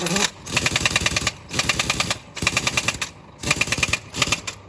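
Impact wrench tightening wheel nuts on a Scania bus during a tyre change, firing in four loud rapid rattling bursts separated by short pauses, close by with no talk.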